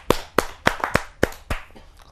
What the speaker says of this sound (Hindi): जरा जोरदार तालियों के साथ